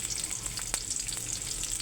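Onion frying in oil in a home kitchen pan for a radish and shrimp curry, a steady bright sizzle with faint stirring scrapes and a small clatter, no voices.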